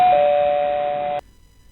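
A single electronic doorbell tone at a cottage door rings out steadily and close, then cuts off abruptly, leaving near silence.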